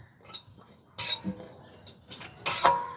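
Pickle spices stirred in a dry pan over low heat, a metal spoon clinking and scraping against the pan in a few short, close strokes.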